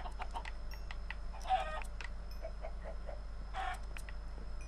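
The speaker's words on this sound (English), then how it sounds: "Wow, a lot of chickens. I need feathers." Chickens cluck in short, scattered bursts in a video game, faint over a steady low hum with no talk.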